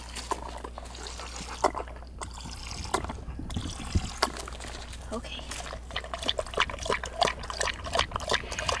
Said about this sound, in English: So we're going to give her a little bit of water.